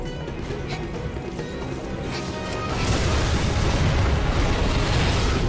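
A barrel bomb goes off in the video game Monster Hunter Online during a raid, a loud explosive burst rising about halfway through over steady game noise, with no talking.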